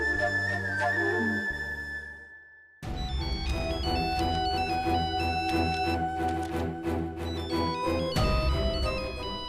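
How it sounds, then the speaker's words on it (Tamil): A mobile phone ringtone plays in a domestic scene from a Tamil TV serial, a melodic electronic tune with bright, repeating tones that loop steadily and loudly for several seconds after a brief quieter lead-in, with no talk over it. "ஏய், போன் அடிக்குது பாரு."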